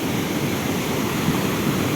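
Floodwater from a khad, a seasonal hill torrent, rushing past close by in a steady, loud broadband roar with no breaks and no voices over it.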